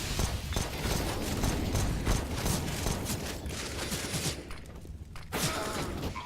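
AK rifles firing in a competitive shooter match, bursts of rapid, dense gunfire overlapping loudly and continuously, with a brief lull before shots resume.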